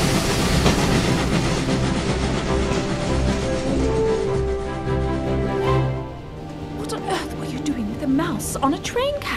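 Cartoon train carriage rolling along the rails with a steady rumble and clickety-clack, loud and continuous, easing off toward the end as voices talk over it.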